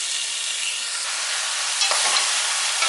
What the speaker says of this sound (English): I'm going to continue adding it and stirring at the same time.